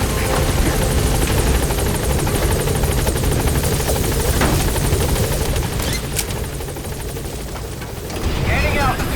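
A helicopter in Metal Gear Solid V lifts off, its loud rotor thump and turbine roar filling the scene, easing slightly near the end before swelling again, with a brief radio voice over it.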